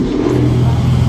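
A loud, close car engine holds a steady revving drone for about a second, with no voices.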